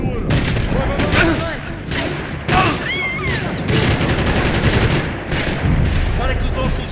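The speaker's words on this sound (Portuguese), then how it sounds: "Atirando pra dar cobertura" Heavy gunfire from the video game Max Payne 3, dense crackling bursts and volleys running throughout, with raised voices shouting over the firefight.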